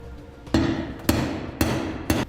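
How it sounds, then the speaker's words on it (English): Four sharp metallic strikes of a center punch on metal, evenly spaced about half a second apart, each with a short ringing tail, close and loud with no talking. "We use a center punch here"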